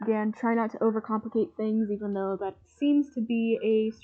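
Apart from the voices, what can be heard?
No distinct noise like a dog, phone or traffic.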